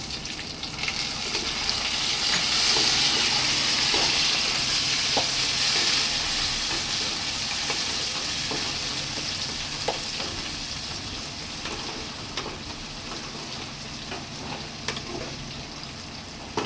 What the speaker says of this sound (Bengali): পেঁয়াজটা আমি লাল লাল করে ভেজে নিচ্ছি।